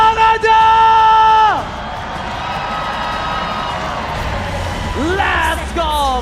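Crowd in a velodrome esports arena roars, whoops and yells during an MPL Indonesia Season 13 playoff match between Fnatic Onyx and EVOS Glory, a loud wash of cheering with tonal voices and shouts rising near the end.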